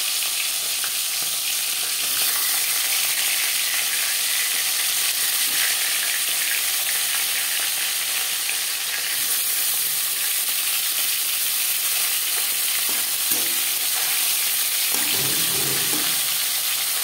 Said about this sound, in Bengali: পরের মাছ একইভাবে ভেজে নেব।